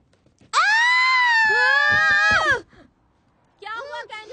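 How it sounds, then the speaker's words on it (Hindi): A girl screams loudly, one sustained high cry of about two seconds, followed after a pause by a shorter wavering wail. "चिल्ला क्यों रही हो?"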